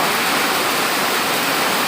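Heavy rain pouring down in a dense, unbroken hiss, loud and close, with no voices or other sounds over it.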